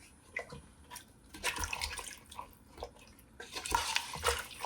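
Water is poured into a pressure cooker for a mutton dish, making irregular splashing and gurgling bursts that swell and fade close by, without speech.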